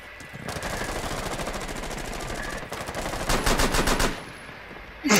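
Rapid automatic gunfire in the video game Rainbow Six Siege, a sustained close burst that swells louder near the end, followed by a sharp final shot.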